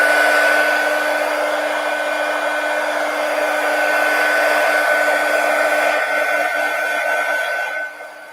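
A hair dryer blows steadily on a collage in a mini composition book, a constant close whirring roar with a steady hum that cuts off near the end.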